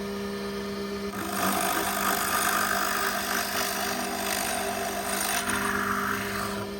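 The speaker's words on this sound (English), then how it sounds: "Let's drill a hole through the 2x4" A Nova drill press with a 7/16 bit boring a hole through a 2x4, a steady motor hum with a brighter grinding whir rising as the bit cuts into the wood, continuous and close.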